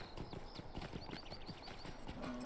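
Goat mount trotting in The Lord of the Rings Online (LOTRO): a quick, steady clip-clop of hooves close by, with faint chirping game ambience above and a low tone near the end.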